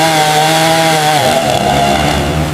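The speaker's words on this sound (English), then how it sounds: "We need that chainsaw over here now." A chainsaw cuts through storm-damaged wood after a hurricane, loud and close. Its steady buzzing whine drops in pitch partway through as the chain bites into the wood.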